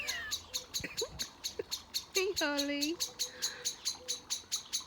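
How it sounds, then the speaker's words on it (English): A garden blackbird scolds a dog with sharp alarm calls, repeated quickly and evenly at close range, while a person briefly speaks partway through. "Every time Harley appears in the garden, the blackbird shouts."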